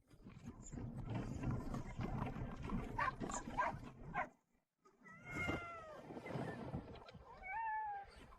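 A dog whining and yelping, with a cat meowing nearby, several cries over a background of scuffling and movement, fairly close.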